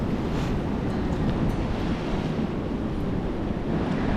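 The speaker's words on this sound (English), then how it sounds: "I do love jumping the waves though when they do come in" Ocean waves breaking along a long stretch of beach near Lisbon, Portugal, a continuous rushing surf roar with wind buffeting the microphone, no voices.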